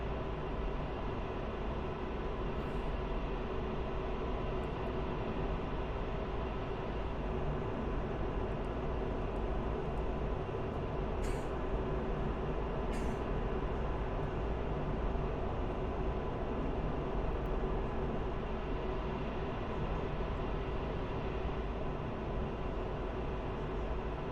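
F-16 Viper jet engine roaring steadily through takeoff in the DCS World flight simulator, a dense, continuous broadband rush that holds at constant loudness throughout with no voices.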